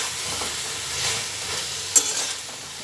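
Eggplant fries in a pan with salt added and is stirred, producing a soft continuous sizzle with scraping stir sounds and one sharp clink near the end. No one speaks.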